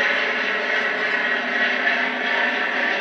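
A B-17 bomber flies overhead with flaps and gear down, a steady, loud engine drone holding level for the whole short stretch without interruption.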